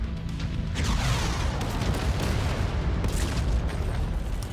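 Heavy AC-20 autocannon rounds in MechWarrior 5 slam into a building in a loud, continuous stream of booming impacts and crumbling debris, close and dense throughout.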